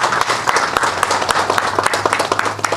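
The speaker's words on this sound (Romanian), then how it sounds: "da cuvântul doamnei Elena Pașcua Păvăloaie, vreau să o întâmpinăm cu un ropot de aplauze puternic" An audience claps at a mayoral campaign launch in Onești, a dense, steady round of applause filling the whole stretch, loud and close.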